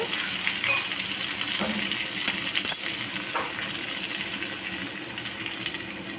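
Paneer tikka frying in oil in a pan, a steady close sizzle with a few sharp clinks and scrapes of stirring, no talk.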